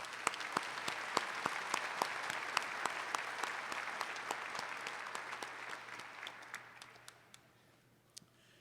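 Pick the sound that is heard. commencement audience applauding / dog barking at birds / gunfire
commencement audience applauding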